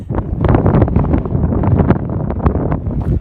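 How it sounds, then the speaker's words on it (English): Strong gusty wind buffets the microphone on a high mountain trail near El Chaltén in the rain, a loud, roaring rumble with rustling bursts and no talk. "It's now very windy and rainy."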